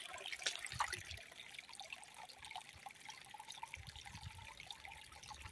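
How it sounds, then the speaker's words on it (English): Small trickle of water running over little rapids in a creek, a faint continuous burble and splash with tiny drips, close and quiet, with no talking. "the noise you hear is caused by that little trickle of water"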